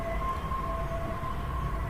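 Emergency sirens from ambulances or police on a road beside a home, a faint steady wailing tone held under low traffic rumble throughout.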